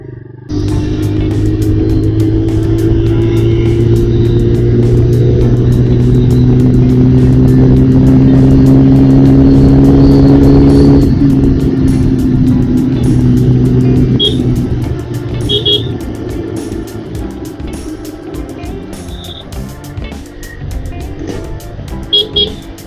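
A motorcycle ridden at a new top speed roars loudly with a steady, high-revving drone and wind rush, then eases off into a lower, quieter rumble.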